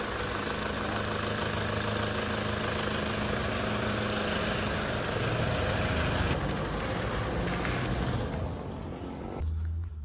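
A Toyota Hilux with a turbo problem causing low power and a check-engine light runs steadily, its engine droning as a constant rumble with broadband road and wind noise throughout.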